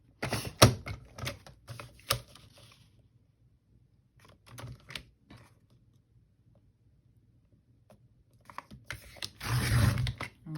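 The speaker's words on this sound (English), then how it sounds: "I'm going to go ahead and cut right here. I think I'll just use my paper trimmer." A paper trimmer slices through scrap paper in quick bursts of scraping and clicking, close and fairly quiet, with pauses of near silence between the cuts and a longer rasping cut at the end.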